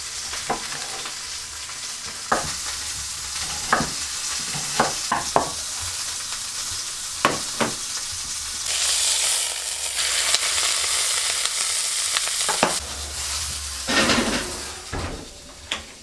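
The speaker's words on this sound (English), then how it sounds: "we're gonna cook those in olive oil with a nice big onion" Mushrooms and a big onion fry in olive oil in a pan, a continuous sizzle broken by frequent sharp clicks and scrapes of stirring against the cookware.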